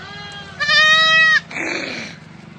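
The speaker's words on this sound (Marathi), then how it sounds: "आता चालल्यात आहे कोकरी" A young lamb gives a high, wavering bleat close by, followed by a second rougher bleat, with faint background noise.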